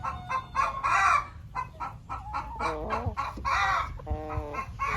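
Several roosters cluck and crow nearby, with overlapping calls and short squawks rising and falling over a farmyard background.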